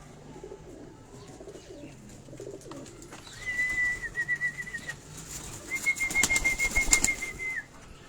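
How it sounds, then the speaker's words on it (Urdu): Pigeons at a loft in Rawalpindi coo in soft repeated calls. Bursts of nearby wing flapping rise and fall, alongside a thin sustained whistle. "اور یہ اگر آپ یہ پیچھے اس کبوتر کو دیکھیں"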